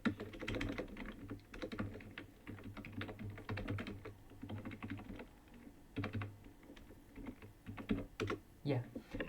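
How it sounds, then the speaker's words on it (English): Close, quick bursts of typing clatter on a computer keyboard, with short pauses between words and a few louder key presses near the end. "I just want to type it again."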